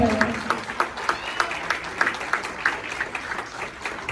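An audience at a school annual day claps steadily, a dense crowd of hands with regular peaks, fairly loud and close, with a faint voice beneath.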